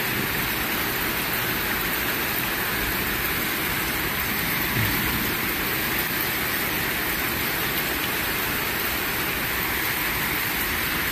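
Heavy thunderstorm rain in Athens pours down steadily, a dense, loud, unbroken hiss of rain on the streets and surfaces with no voices.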